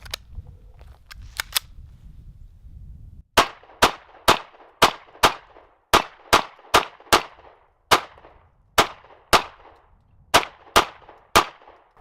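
A Sig Sauer P226 9mm pistol fires about fourteen sharp, loud shots in a steady, evenly spaced string, each crack ringing out briefly, after a few quieter clicks and low rumbling handling noise.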